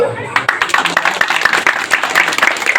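Audience applause at a Balinese topeng bondres mask-dance performance, dense crowd clapping rising after a voice at the start and continuing loud and close.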